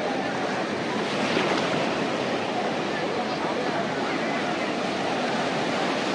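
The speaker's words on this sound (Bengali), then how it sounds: "এই ঢেউটা একটু কম" Sea waves breaking on the shore at Puri beach, a continuous loud roaring wash of surf with steady churning and no distinct pauses, with faint voices mixed in.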